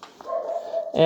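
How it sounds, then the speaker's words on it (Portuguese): A single dog bark or whimpering yelp, fairly close, drawn out and tonal, with a sharper burst at the end. "O cachorro aqui latindo aqui é um problema."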